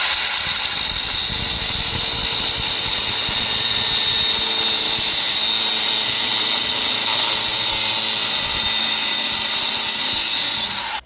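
Metal radiator mount for a budget LS engine swap being cut with a power tool, a loud, steady high-pitched grinding whine that runs without a break and stops abruptly at the end.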